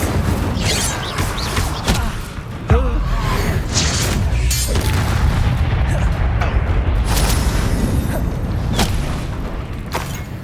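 Fire spell cast in the Hogwarts Legacy video game during a battle, heard as a sharp burst and crackling whoosh amid dense, loud combat effects, impacts and booms, with in-game voices over them.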